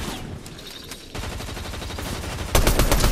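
Game gunfire in a multiplayer shooter: sparse scattered shots at first, then a denser run of rapid cracks that swells into a loud closing volley, with no talk over it.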